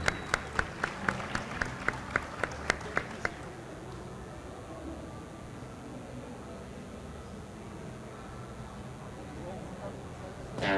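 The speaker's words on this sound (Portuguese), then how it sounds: "Uma salva de palmas para o Gabriel Medina." At a smart-cities conference in Recife, about ten evenly spaced claps sound for Gabriel Medina over the first few seconds, then stop, leaving quiet room noise.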